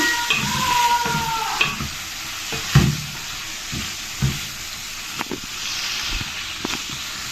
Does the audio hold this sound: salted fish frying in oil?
yes